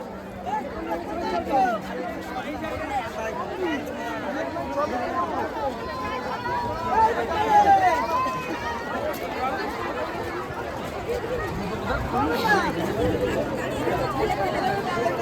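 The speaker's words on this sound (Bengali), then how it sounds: "হঠাৎ করে এত পর্যটকদের ভিড় নিউ দীঘার সমুদ্র সৈকতে সচরাচর কিন্তু লক্ষ্য করা যায় না" Dense babble of a large tourist crowd on New Digha sea beach, many overlapping voices chattering steadily at moderate distance, with occasional louder swells and a few nearer voices standing out.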